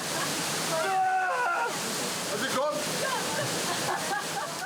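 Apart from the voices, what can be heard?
waterfall swollen by typhoon at Mount Inunaki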